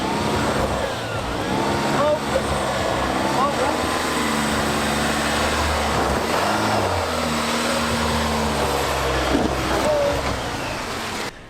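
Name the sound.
Volvo XC60 engine climbing rocky off-road trail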